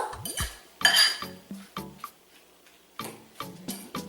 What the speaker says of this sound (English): Now I'm actually just mixing and looking for big chunks so I can get away with a fork.